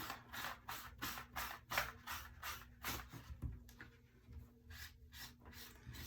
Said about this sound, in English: Let me go grab my board eraser right quick so we can properly clean it.